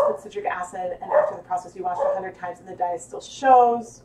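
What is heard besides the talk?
dog barking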